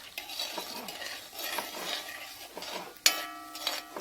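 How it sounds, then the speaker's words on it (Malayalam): A spoon stirs Kerala-style tomato rasam after broken dried chillies go in, with soft sizzling and scraping, then sharper metallic clinks against the pot near the end. "ഇനി നമുക്ക് പത്തൽമുളക് ഒടിച്ച് അങ്ങോട്ടിടാം ഇളക്കി കൊടുക്കാം"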